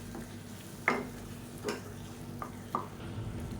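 Quiet sizzling of a paste sautéing in a pan for sambar, with a few distinct scraping stirs of a spatula, spaced irregularly over a soft steady background hum.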